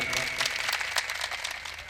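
A mushaira crowd in Uraina, Badaun claps together in a steady, dense wash of applause that holds at an even level throughout, with a few sharper claps standing out.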